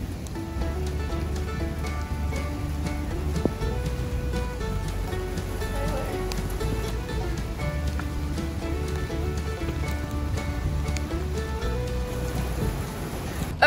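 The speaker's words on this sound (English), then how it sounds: "it started pouring down rain, so we had to load up really fast" Steady, dense rain pours at a horse show, roaring without pause, a constant wash of sound with faint tonal notes drifting underneath.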